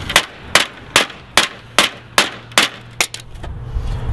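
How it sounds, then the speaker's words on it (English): A hammer strikes a polycarbonate cap covering a steel wheel nine times in a steady rhythm, each blow a sharp, loud knock with no voices in between. "You can hit it with a hammer and it doesn't do anything."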